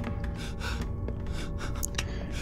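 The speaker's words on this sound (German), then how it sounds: "du hör doch auf hier zu schnaufen" A character pants and gasps in the horror video game Pineview Drive, quick breaths and short catches repeating over a dense, steady ambient drone.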